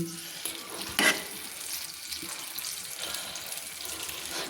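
Water poured into a pan of Bata fish curry with potato and aubergine, a hissing splash around the one-second mark, then a steady low sizzle and bubbling that runs on alone.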